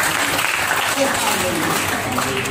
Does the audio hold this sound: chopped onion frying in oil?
no